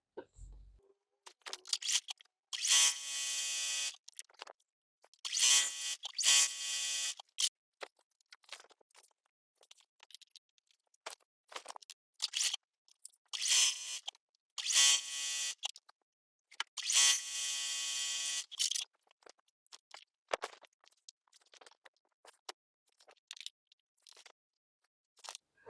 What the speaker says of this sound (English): Take my top border, line that up, pin it in place, and then we'll sew it on.